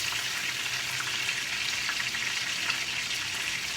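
Thick grouper fish fingers fry in oil in a cast iron skillet, giving a steady, dense crackling sizzle at close range with fine popping spatters throughout and no talking.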